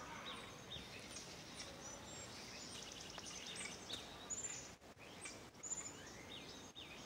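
Small birds, scrub jays and finches, singing outdoors in Northern California, faint scattered chirps and calls at a distance over a quiet background hiss, with no talk.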